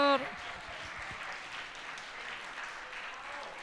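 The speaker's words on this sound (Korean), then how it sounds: "같이 환영의 박수." Welcoming applause from the congregation at a church youth worship service: a brief voice at the very start, then steady, dense clapping that holds at an even level through the rest of the clip.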